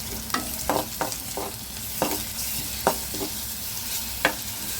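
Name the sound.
chili and ginger-garlic paste frying with onion, stirred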